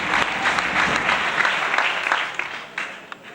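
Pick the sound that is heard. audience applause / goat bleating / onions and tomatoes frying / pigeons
audience applause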